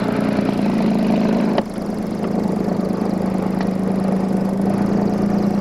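Left engine of a twin-engine airplane running steadily during a pre-takeoff check, a loud continuous droning hum with a brief dip in level early on.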